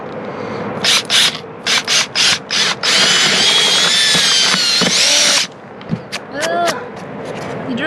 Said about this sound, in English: You drilled a hole in our roof.